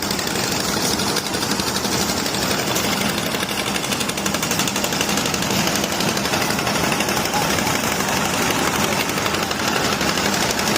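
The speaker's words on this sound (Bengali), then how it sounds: "এই যে এই একটা ট্রলার, এটা বালু ইয়ে করতেছে" A loud, steady diesel engine of a sand-carrying trawler boat in Sylhet chugs and rattles without pause, close by and dominating everything, no voices.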